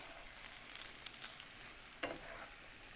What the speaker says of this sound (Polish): powoli wlewajmy i cały czas mieszajmy.